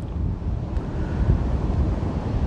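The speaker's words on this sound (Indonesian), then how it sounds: "Ombaknya besar sekali di sini." Large ocean waves roll and crash in a steady, loud wash of surf, heavily buffeted by wind rumbling against the microphone throughout.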